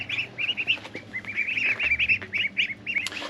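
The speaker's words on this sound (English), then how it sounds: "these are our orphan ducks" A small group of garden ducks quacks in rapid, overlapping bursts close by, continuous chatter with no other sounds.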